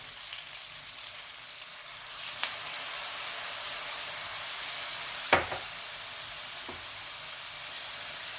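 Shrimp heads frying in oil with fish sauce poured in, making a steady soft sizzle with a few brief louder crackles and a bigger hiss burst midway, no voices.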